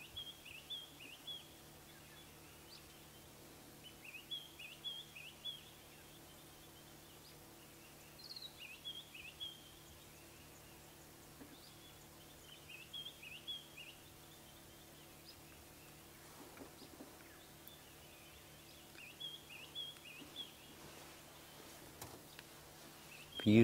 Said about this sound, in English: Let's just sit here, just listen to the birds calling.